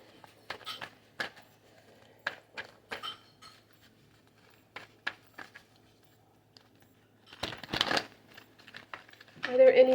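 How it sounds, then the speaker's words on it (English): Tarot cards being shuffled by hand, producing short soft riffles and flicks in irregular bursts separated by quiet pauses, with a louder flurry near the end. "And I'm going to finish shuffling."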